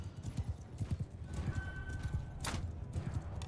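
A horse in the medieval battle game Mount & Blade II: Bannerlord gallops with rapid, rhythmic hoofbeats and gives a short whinny midway, close and steady, with no talking over it.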